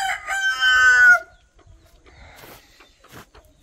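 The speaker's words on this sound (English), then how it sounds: "they have way too many roosters here and not enough chickens. So I think that's the reason why they're always screaming." A rooster crows once, loud and close, in a Sepik village in Papua New Guinea, followed by faint distant rustles and clucks.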